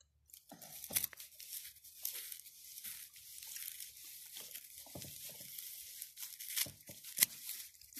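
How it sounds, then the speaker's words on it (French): Repeated crisp snipping and crunching as scissors cut tiger nut (earth almond) plant stems, irregular bursts close by over quiet rustling. "j'ai pris des ciseaux. Je coupe les tiges."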